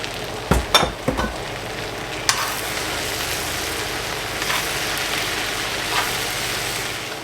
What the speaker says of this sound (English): we're going to add our mushrooms now that our onions are nice and translucent. We're also going to add in some garlic